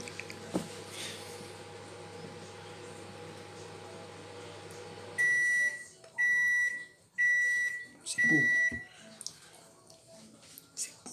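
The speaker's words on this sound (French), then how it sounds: "Le micro-ondes a sonné pour ton gratin." A microwave oven signals that a potato gratin is done with four loud, evenly spaced electronic beeps, following a steady kitchen hum and some background clatter.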